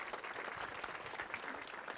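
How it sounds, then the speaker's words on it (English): Applause from an audience at a community farmers breakfast, a steady, dense patter of many hands clapping continuously throughout, moderately loud and evenly sustained with no pauses. "a round of applause to that team"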